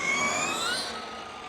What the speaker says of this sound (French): j'adore le bruit du freinage.